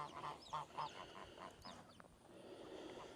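Geese honk in a short series of nasal calls at moderate distance, faint against steady outdoor background noise.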